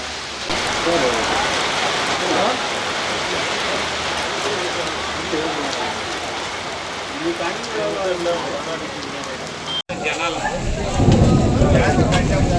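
Heavy storm rain driven by wind pours down steadily on a village. It is a loud, continuous broadband hiss and patter that swells slightly near the end.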